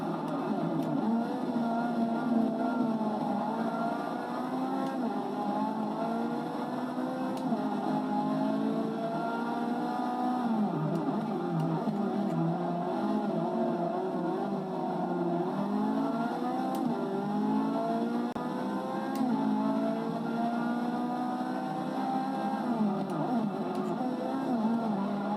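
Ferrari race car in Forza Motorsport 6 at Catalunya, its engine droning steadily and loud throughout with shifting pitch sweeps as it revs, alone with no talk.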